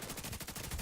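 Rapid automatic gunfire from The Division 2, a dense, continuous burst of shots rattling at a steady fast rhythm, loud and close throughout with no talking.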